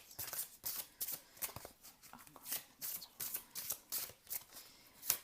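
Tarot cards shuffled and drawn by hand at close range, a run of soft riffling flutters and papery slaps in an uneven rhythm, quiet and alone with no talking.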